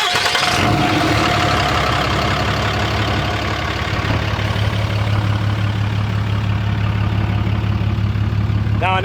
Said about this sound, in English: Now, let me start my truck